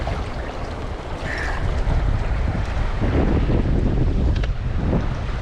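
A strong upstream wind blows across a large river during fly fishing, a loud, continuous rushing roar that buffets the microphone with gusts, with no voices.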